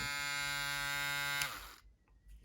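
Electric foil shaver buzzing with a steady, even hum, close and fairly quiet, then switching off. A few faint small noises follow in near silence.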